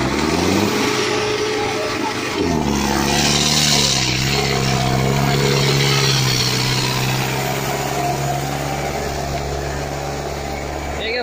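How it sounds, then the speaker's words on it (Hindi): A Preet 6049 tractor engine runs steadily in Dighal village, a loud continuous diesel drone that dips and shifts pitch briefly early on, with someone speaking over it. "भाई 60-49 ट्रैक्टर है यो डीगल गाँव में"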